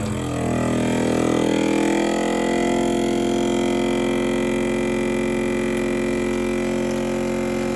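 A vacuum sealer motor hums steadily and loudly from start to finish, an even mechanical drone with no voices.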